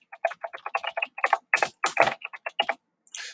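Quick bursts of clicking keystrokes on a computer keyboard, close and crisp, in uneven runs with short pauses, ending after a brief gap with a final tap.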